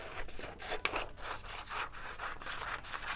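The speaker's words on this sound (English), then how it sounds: "Use my paper scissors." Scissors snip and rasp through paper in a series of short, regular cuts, close up and fairly quiet, with no talking.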